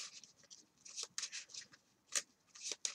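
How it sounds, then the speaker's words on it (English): A deck of playing cards being shuffled in short, close, papery bursts of riffling and sliding, uneven in rhythm over a few seconds. "I'm going to shuffle here."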